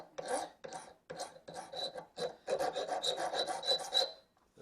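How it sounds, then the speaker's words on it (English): A hand file rasps across a bolt end on a Honda Rebel 250 motorcycle, a run of short scraping strokes that quicken into a steady back-and-forth rhythm, close and fairly quiet. "I need to file off a little bit on the end here"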